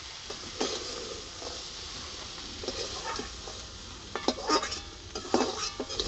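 Crab legs frying in a pan until they turn red. A soft, low sizzle sits under intermittent clinks and scrapes of a spatula against the pan, fairly faint, with a few louder knocks near the end.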